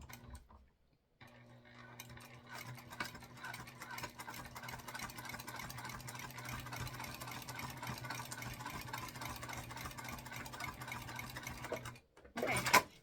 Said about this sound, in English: we're going to sew these together at a 1/4 inch seam allowance